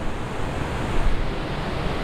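A waterfall in Bali heard from inside the small cave behind the falling water, a loud, steady roar of rushing, splashing water with constant broadband noise and no pauses.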